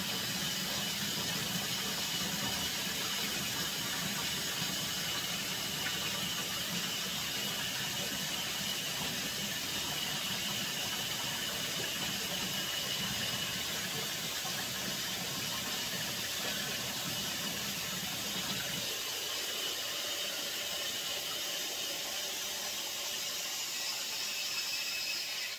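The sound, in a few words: hot water tap running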